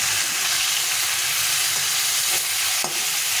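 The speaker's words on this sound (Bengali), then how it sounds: "মাছটাকে ভালো করে ভেজে নিতে হবে।" Fish frying in shallow oil in a pan, giving a steady close sizzle with faint stirring and scraping as the pieces are turned.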